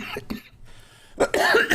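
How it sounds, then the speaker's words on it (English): Close, raspy allergy coughing: a pair of short bursts, a brief pause, then a harsher, longer cough fit, with no speech. "Excuse my cough."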